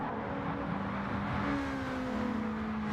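Opponent's race car engine in Gran Turismo 7, a steady droning whine with slowly sliding pitch, holding close behind.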